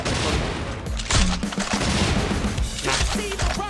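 Rapid bursts of grenade launcher fire and explosive booms in Free Fire, dense and loud, with constant clattering impacts throughout.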